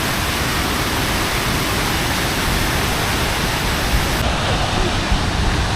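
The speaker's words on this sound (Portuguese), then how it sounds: "E aí estão as cascatas Duden." The Düden waterfalls in Antalya, Turkey, roar loudly and constantly on a hot morning, a dense, unbroken rush of falling water filling the whole scene.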